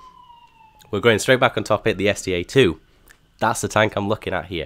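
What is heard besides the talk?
emergency sirens outside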